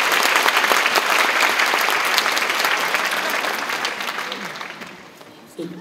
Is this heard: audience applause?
yes